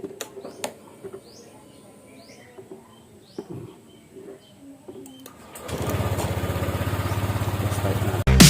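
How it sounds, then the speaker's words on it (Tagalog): A motorcycle engine starts and runs partway through, a steady rough idle that follows quiet workshop clicks and tinkering from battery and fuse work. "Kailangan maandar yung makina."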